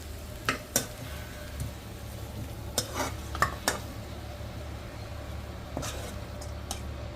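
Cooked mutton curry being slowly poured from a kadai into a pressure cooker, with sharp metal scrapes and clinks of a spoon against the pan over a low sizzle, fairly close and unaccompanied by speech.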